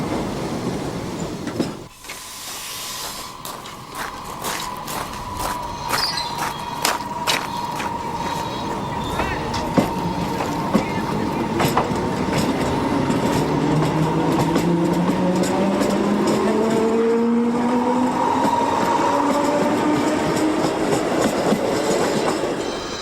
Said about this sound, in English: Electric multiple units provide a regional service linking the intermediate local stations between Lisbon and Entroncamento.